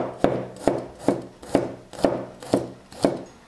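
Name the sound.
knife slicing garlic cloves on a cutting board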